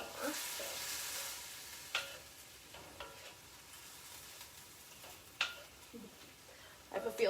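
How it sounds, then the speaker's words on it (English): Lemongrass chicken stirred around in a hot pan, soft sizzling under quiet scraping, with occasional sharper utensil clicks against the pan, no voices. "we're gonna stir this all around. Cook it for about a minute more."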